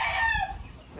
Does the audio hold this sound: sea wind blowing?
no